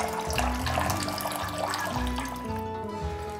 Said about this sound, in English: All that nice sugars and starches that are being rinsed out of the grain is going right into our brew pot